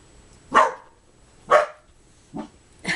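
A dog gives four separate barks about a second apart, loud and close, with quiet gaps between them and no talking.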